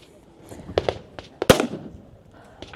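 Pistol shots fired one-handed with the non-dominant hand at a shooting competition stage, a few sharp cracks spaced apart with the loudest near the middle, amid faint voices and background noise.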